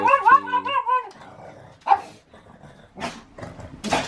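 Dogs bark, starting with a close cluster of sharp barks and a whine, then scattered single barks and yips, fairly near, with no talking.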